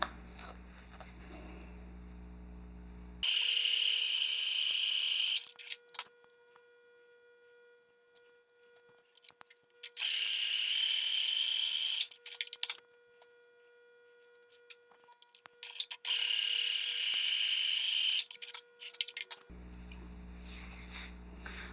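A sewing machine stitching fabric for a pencil case runs in three separate bursts of steady, close whirring, with quiet pauses in between.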